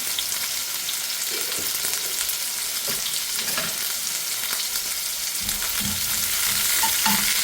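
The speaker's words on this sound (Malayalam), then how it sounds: "കുറച്ച് സവാള ഇട്ട് വെക്കാം. സവാള നന്നായി ഇരിക്കണം." Onions frying in very hot oil in a pan, a steady broadband sizzle with occasional stirring scrapes, continuous and close throughout.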